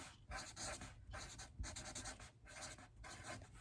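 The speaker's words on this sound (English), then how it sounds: "Right now, I'll just write playing board games." A pen or pencil writing the words playing board games on paper, with a continuous close scratching made of short strokes and brief pauses between words, quiet and alone.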